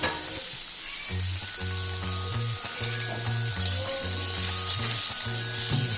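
Potatoes sizzle and crackle steadily in oil left over from frying pointed gourd, for a prawn and pointed gourd dish, a close, continuous frying hiss with a song with a beat playing underneath.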